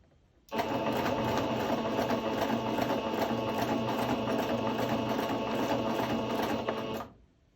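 A sewing machine runs steadily, stitching fabric for a skirt at an even, continuous whir for about six and a half seconds, close and fairly loud, then stops.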